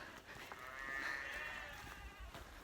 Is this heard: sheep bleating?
yes